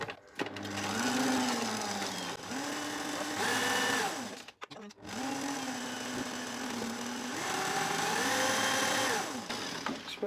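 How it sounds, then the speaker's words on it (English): An electric mixer beats peanut brownie batter in a bowl, its motor whining loudly with shifting pitch in two long runs separated by a brief pause midway. "I'm just lucky I've got a mixer"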